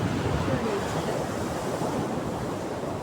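High ocean waves at a shore on an island, a loud continuous roar of surf with wind buffeting the microphone throughout.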